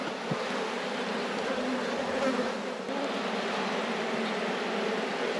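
Honey bees hum in a dense, steady drone at an open, thriving hive, close and continuous throughout.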